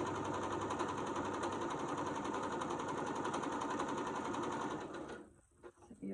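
A sewing machine runs steadily for about five seconds, stitching fabric strips with a quarter-inch seam for a hot pad, then stops abruptly, leaving faint handling noise.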